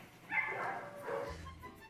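Dogs barking inside an animal control shelter: a couple of faint, distant barks and yips over a low background hum.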